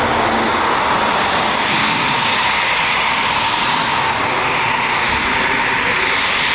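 A Eurofighter Typhoon FGR4 jet engine runs on the ground at an RAF station, a loud, steady roar and whine that holds throughout without pause.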